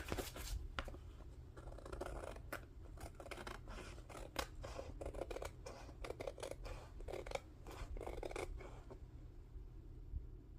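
Scissors snip through craft paper in a quick series of crisp, close cuts, irregular in rhythm, over a quiet low hum with no talking.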